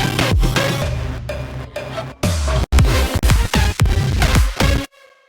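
A bass house drop plays from an FL Studio project, with punchy kicks, heavy bass stabs and rhythmic synth hits in a loud, chopped groove, then cuts to near silence at the end.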